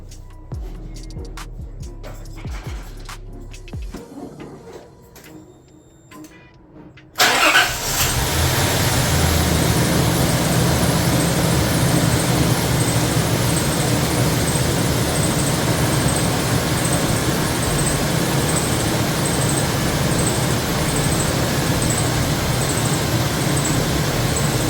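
A 2001–2002 Nissan Pathfinder's engine starts abruptly after a quiet garage moment, then settles into a steady, loud, continuous idle that runs on unchanged with no talking, following an idle air control valve replacement.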